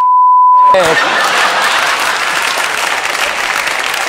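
A loud, dense crowd roar at a protest rises right after a short electronic beep and carries on steadily without any clear individual voice.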